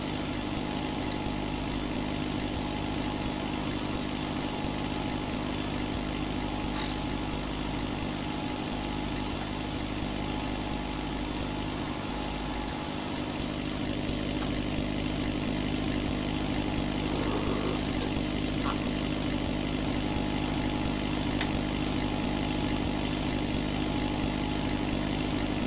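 Ford 5610 tractor engine idling steadily nearby, a continuous low mechanical drone with a few faint clinks and knocks, no talk.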